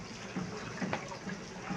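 Noodles are rinsed under running water, a soft steady splash and trickle close by with a few louder bursts.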